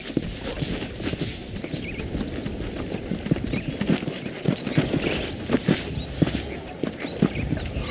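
Hooves of a ridden horse clip-clop in a quick, uneven rhythm across dirt in the Western open world of Red Dead Redemption, close and clear, with occasional snorts and faint birdsong behind.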